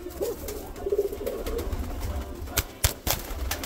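Birmingham roller pigeons in a breeding loft cooing softly, several low repeated coos close by, with light rustling and a few sharp knocks.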